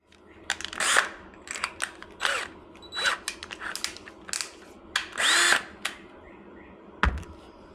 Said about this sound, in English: Let me drill a hole through this battery.